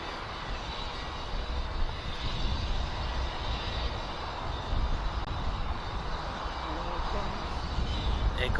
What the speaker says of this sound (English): departing now is a Cessna Citation to Northolt